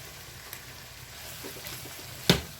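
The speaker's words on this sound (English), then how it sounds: "I'm going to go ahead and add in my green beans." Blanched green beans drop into a hot pan with garlic, setting off a loud burst of sizzling and stirring over a continuous frying hiss, with a sharp crackle near the end.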